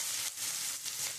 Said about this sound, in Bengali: তোমার পেঁয়াজটা একটু আমি লাল লাল করে একটু ভেজে নেবো, তাছাড়া আদা রসুনটা একটু ভাজা হয়ে যাবে।